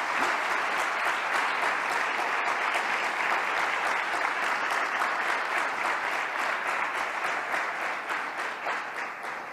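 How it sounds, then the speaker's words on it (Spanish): Sustained audience applause at a communications talk, steady dense clapping filling the room for several seconds and tapering slightly near the end, with no voices over it. "yo quiero otro aplauso más para ese equipo de redes sociales"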